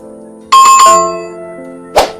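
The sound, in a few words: bell sound effect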